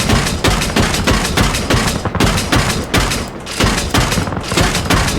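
An M242 25mm cannon on a LAV-25 in Arma Reforger pounds out rapid, heavy, rhythmic shots in sustained bursts with brief gaps, very loud and close, with no talking over it.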